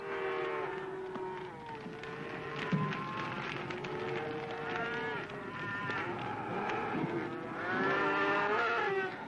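Cattle lowing repeatedly while being gathered on a Texas ranch, overlapping moos from several animals at moderate distance over a steady outdoor wash.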